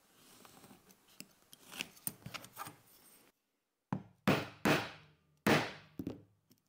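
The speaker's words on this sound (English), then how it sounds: "you can tap the stitches with a hammer before cutting your threads" A hammer taps hand-stitched seams flat on a leather trifold wallet, giving four sharp, loud knocks in an uneven rhythm after a stretch of softer workshop handling sounds.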